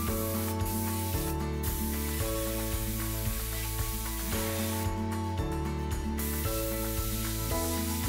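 Short hissing bursts of spray primer and silver paint on a plastic toy trident, coming in a few separate puffs over loud background music.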